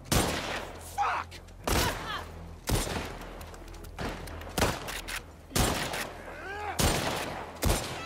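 Gunfire in The Last of Us Part II, a string of sharp bursts and single shots in a combat fight, spaced roughly every second with some closer together, loud against a steady low background hum.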